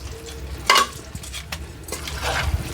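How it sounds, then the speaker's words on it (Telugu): Dry fruits frying in a pan for a homemade laddu, with a few sharp stirring clinks of a spoon against the pan over a low, faint sizzle, with no talk. "అంతలోపు మనము డ్రై ఫ్రూట్స్ ఫ్రై చేసుకుందామండి"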